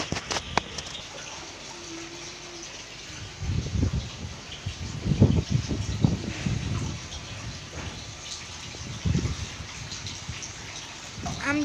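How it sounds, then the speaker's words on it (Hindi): Heavy rain in a garden pours steadily, with gushing water and splashes swelling in bursts, fairly quiet and diffuse overall. "बारिश बहुत तेज़ हो गई है"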